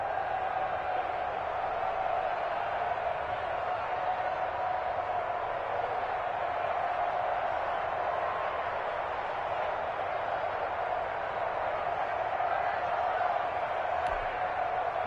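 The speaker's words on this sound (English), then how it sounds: "The crowd getting into it as we come up on a big third down." Steady crowd roar fills a football stadium ahead of a big third down, continuous and even throughout with a constant broad wash of voices and no distinct peaks.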